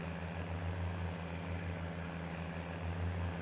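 An 800-horsepower tractor engine in Farming Simulator 19 drones steadily with a low pulsing rumble and a constant high whine, loud and unbroken, with no talk.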